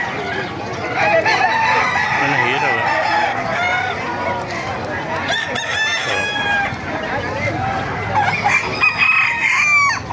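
Several chickens cluck and roosters crow repeatedly, close by at a market in Calumpit, while a person speaks briefly over the birds.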